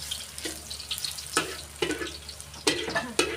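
Garlic and eggs stir-fried in a pan for fried rice, with a sizzling background broken by several sharp scraping and clanking strokes of a spatula against the pan at an irregular rhythm.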